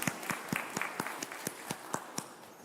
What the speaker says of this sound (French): On peut applaudir, même si c'est dans le thème.